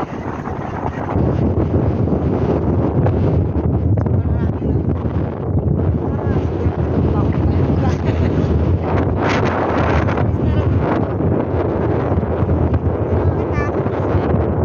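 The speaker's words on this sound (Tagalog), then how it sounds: "Sobrang hangin." Strong wind on a hilltop along the Victoria Lines in Malta buffets the microphone continuously, a loud, rough roar that never lets up, with faint voices buried underneath.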